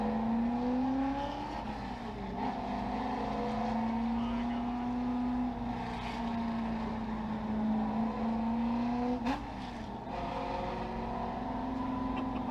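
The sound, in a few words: street legal truck engine with small block running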